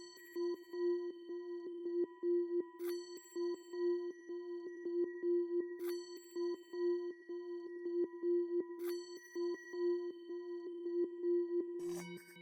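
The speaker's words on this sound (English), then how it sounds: "it's just a mixture of different sounds, as in like the Tibetan bells" A Tibetan bells sample layered in a dark hard music production mix, sustained ringing tones with repeating rhythmic pulses and periodic bright metallic strikes, clear and unaccompanied by voices.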